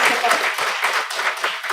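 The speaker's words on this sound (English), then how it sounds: "I think a big round of applause for this" Workshop audience applause on air pollution and health, a dense burst of many hands clapping close by, steady for a couple of seconds.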